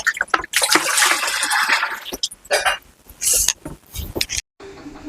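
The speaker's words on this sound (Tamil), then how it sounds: "தண்ணி வந்து ஒரு 4 லிட்டர் அளவு தண்ணி ஊற்றிக்கலாம்." Water is poured into a pan while making cornflour halwa, a splashing rush for about a second and a half, followed by scattered clinks, brief trickles and handling noises.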